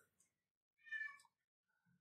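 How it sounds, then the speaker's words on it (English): A cat lets out a single short meow, faint and distant, against near silence. "Oh, I hear a cat in the background."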